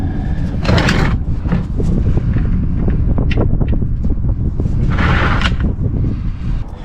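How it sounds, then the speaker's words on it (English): Strong wind roars and buffets the microphone in a constant low rumble, with gusts surging louder now and then. "It's so bloody windy today, it's going everywhere."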